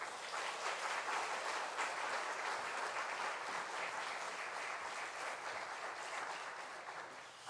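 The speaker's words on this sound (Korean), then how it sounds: "우리 큰 박수로 환영하면서 함께 모시겠습니다." Steady applause from a church congregation welcoming a pastor at a Friday prayer service. Many hands clap evenly and at a distance for the whole stretch, with no voices above it.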